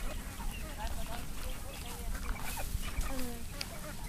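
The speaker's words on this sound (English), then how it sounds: "Bow, don't kick the chickens!" Backyard chickens cluck and chatter in a yard, several birds calling in short overlapping bursts close by amid steady outdoor noise, with people talking now and then.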